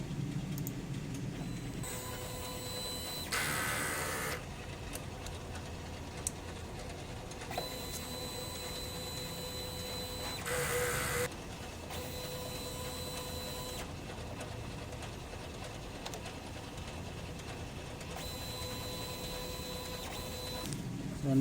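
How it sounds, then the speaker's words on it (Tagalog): A DTF printer runs its print head cleaning cycle, giving a steady mechanical whir with periodic louder bursts of pumping and carriage movement at close range. "So mag head clean tayo."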